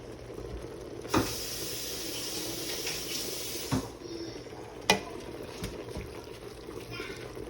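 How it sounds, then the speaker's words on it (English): Hamburger meat cooking in a pan while being stirred, a low steady sizzle punctuated by a few sharp utensil knocks against the pan, fairly quiet and near. "Now I'm gonna stir this up."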